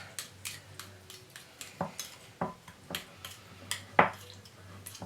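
A utensil clinks and scrapes against a bowl while stirring a pizza ingredient mix, irregular taps and knocks roughly twice a second, close and fairly crisp with no talking.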